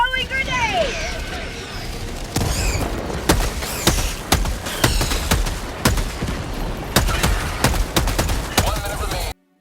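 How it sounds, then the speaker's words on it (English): Gunfire and explosions from the video game Helldivers 2, with repeated sharp broadband blasts and bursts of shots over continuous game noise, a grenade among them, while a voice talks underneath throughout. "Throwing grenade!"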